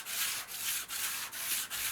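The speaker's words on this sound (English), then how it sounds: "First some light sanding to clear off excess epoxy," Light hand sanding on a wooden luff groove to clear excess epoxy, heard as soft, rhythmic back-and-forth rasping strokes, about five in quick succession, close and quiet with no talk.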